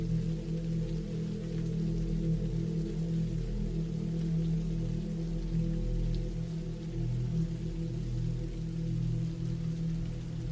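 Steady rain falling at a campsite, a constant dense patter with no breaks, fairly loud and even throughout.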